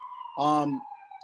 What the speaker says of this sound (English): you can hear the siren in the back right now